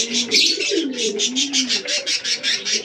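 Fancy pigeons coo inside a loft, fantail and mukhi birds among them, a near, low warbling call repeated in a steady pulsing rhythm, with a soft rustling hiss throughout.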